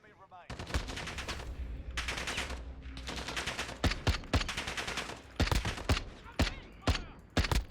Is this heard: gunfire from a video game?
yes